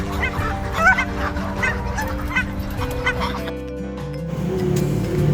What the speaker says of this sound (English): Ducks, ducks.